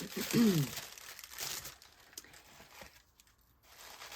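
Bubble wrap on a package is handled and unwrapped up close, giving soft crinkling and crumpling bursts that come and go, with someone talking quietly at times.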